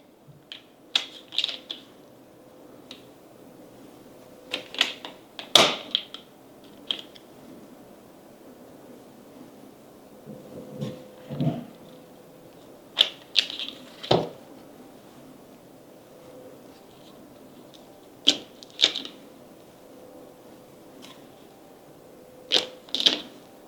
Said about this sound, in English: We're going to keep cutting here until we get all our fish covered.